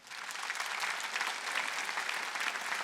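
A church congregation clapping together during a Sunday service, a dense steady wash of applause that swells in quickly and holds, heard from a little distance.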